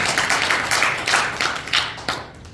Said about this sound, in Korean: 우리 박수 한번 치시죠.